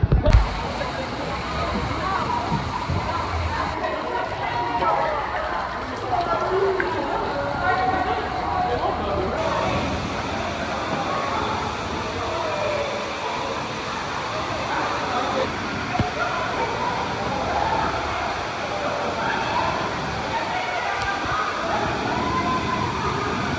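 Water sloshes and churns continuously in the lazy river at Universal's Volcano Bay water park, a broad steady wash of splashing with voices talking in the background.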